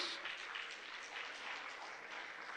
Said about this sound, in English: Big hand of applause, please.